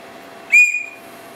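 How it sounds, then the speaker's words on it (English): A single short, shrill whistle blast from the small built-in whistle of a Tool Logic Survival II credit-card survival tool, heard up close and alone, lasting about half a second before quiet returns. "A whistle,"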